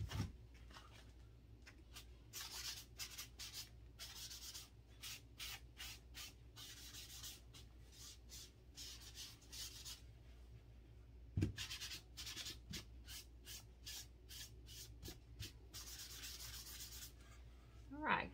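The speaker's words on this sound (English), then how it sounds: "Now I'm just going to wipe back a little bit using a dry paper towel." A dry paper towel is wiped back and forth over a piece coated in antique wax during a thrift-flip fall decor project. It makes steady, close, soft rubbing and scratchy swishes in repeated strokes, with brief pauses and no talk.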